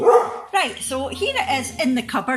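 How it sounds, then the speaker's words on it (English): A dog barks in the background indoors at home while someone talks steadily over it, the barks partly buried beneath her voice. "Sorry about the dog barking."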